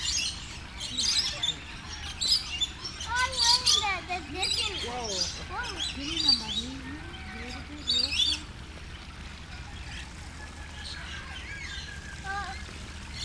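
Small birds at the Aquarium of the Pacific give chirps and squawky calls at close range. People talk near them throughout.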